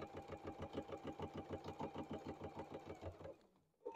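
A sewing machine stitches quilt binding in a fast, even rhythm of close mechanical pulses, then stops near the end with a single soft thump afterward.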